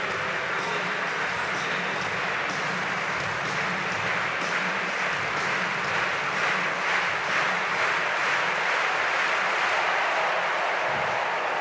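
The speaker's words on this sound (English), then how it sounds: "roars from the German crowd" A German stadium crowd at the Munich 2022 European Athletics Championships gives a dense, sustained roar that holds at full strength the whole time, loud and enveloping with no break.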